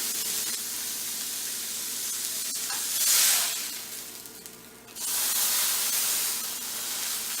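A pork loin sears in a hot pan, its ends pressed down against the metal, producing a strong steady sizzle and hiss that swells, fades briefly, and then returns at full strength.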